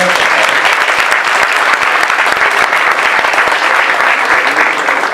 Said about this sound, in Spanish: un aplauso para todos nuestros panelistas